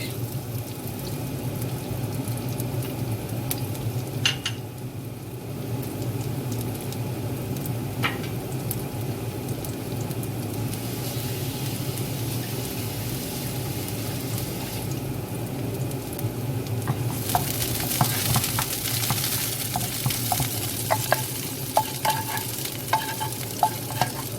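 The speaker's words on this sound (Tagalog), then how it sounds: "Ngayon na-fry na yung garlic" Garlic fries in a pan with anatto oil, a continuous crackling sizzle that grows louder and busier toward the end, with occasional stirring clinks.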